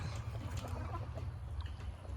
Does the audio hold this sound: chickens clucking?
yes